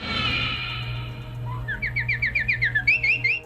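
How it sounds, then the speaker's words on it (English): A Tom and Jerry cartoon elephant makes birdlike chirping: a rapid series of bright, rhythmic tweets after a brief whistle, loud and close over a low background hum. "an elephant chirping like a bird"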